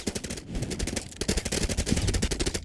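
Rapid automatic gunfire in the Minecraft paintball game Paint Warfare rattles in fast, even bursts close up, a continuous stream of sharp shots with no talk over it.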